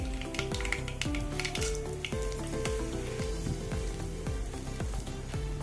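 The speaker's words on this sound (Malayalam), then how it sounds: "കടുക് പൊട്ടിക്കഴിയുമ്പോൾ മൂന്ന് വറ്റൽ മുളക് കട്ട് ചെയ്ത് വെച്ചത് ചേർത്ത് കൊടുക്കണം" Loud crackling and spitting of cut dried red chilies frying in oil with popped mustard seeds, with music playing underneath throughout.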